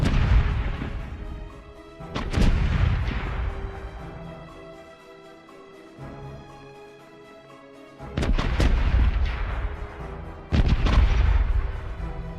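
Ship cannons boom in the Corsairs Legacy pirate game, a few loud broadside blasts with long rumbling tails spaced through the stretch, one pair firing in quick succession near the end, with no talking.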